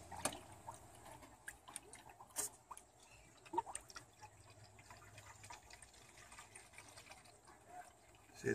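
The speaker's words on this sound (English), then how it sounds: "See, it's going in now. Air is getting purged out of the radiator. Hear it?" Coolant trickles and gurgles into the radiator of a Lexus RX350 with a 2GR-FE V6 while trapped air purges out, giving faint bubbling and irregular drips with occasional sharper splashes close by.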